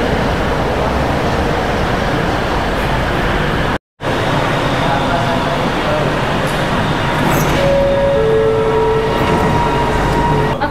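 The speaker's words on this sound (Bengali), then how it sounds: "এই যে ট্রেন চলে এসছে।" A driverless LRT metro train in Kuala Lumpur arrives at a station with a steady rumble and rolling noise. Brief tonal whines rise near the end, with no talk.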